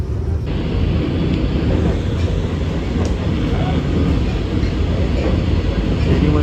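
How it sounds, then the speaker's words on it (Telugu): The Mini Vande Bharat Express speeds along between Bengaluru and Hyderabad, heard from inside as a steady loud rumble with rhythmic rail clatter that continues without a break. "మొత్తానికి మన ట్రైన్ మాత్రం మంచి కొడుతుందండి."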